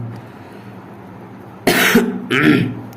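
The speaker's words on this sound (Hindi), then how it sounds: "हमें खांसी होने लगी दोस्तों" Two sharp coughs, one after another, close by, following a quiet stretch of low background hum.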